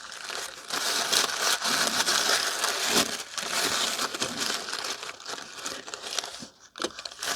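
Tissue paper and foam packing crinkle and rustle up close as a Corgi die-cast model car is unwrapped, continuous crackling with brief pauses, no talking.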